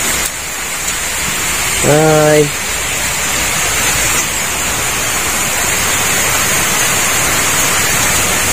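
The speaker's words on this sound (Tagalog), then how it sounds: "Hindi malakas ang ulan." Light rain patters steadily on a hut, a soft continuous hiss with no letup; a voice briefly calls out a short greeting over it.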